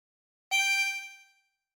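A single sustained blown note on a 24-hole tremolo harmonica, hole 13, sounding alone: bright and reedy with a shimmering waver, clean attack, fading out after about a second.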